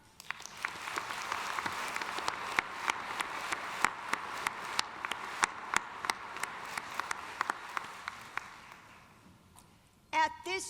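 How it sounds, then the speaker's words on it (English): Applause fills a nursing commencement ceremony at a Jesuit Catholic university, a broad steady wash of clapping with sharper individual claps standing out, continuing for about ten seconds before fading, then a brief burst at the end. "Let's join together in applause for each other."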